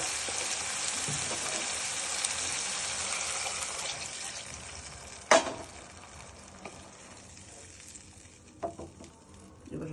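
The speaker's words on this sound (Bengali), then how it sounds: "এরকম হয়ে গেলে আমরা পানি ঢেলে দেব।" A pan of bean seed curry sizzles steadily in hot oil, the crackle easing after a sharp splash as water is poured in, followed by a couple of faint clinks and softer simmering.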